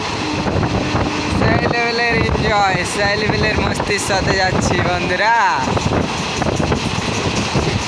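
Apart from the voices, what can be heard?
Karaikal Express train running, with wind noise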